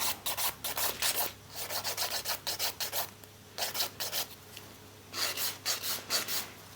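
Acrylic nails are filed across the top with a hand file, making rhythmic, raspy back-and-forth strokes in quick bursts separated by short pauses, close and fairly loud.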